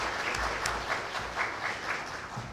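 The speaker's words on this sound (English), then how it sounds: "Let's give a round of applause to Pak Ippei." An audience applauding a lecturer at a public university lecture, steady clapping from many hands with slight swells, fairly close and sustained throughout.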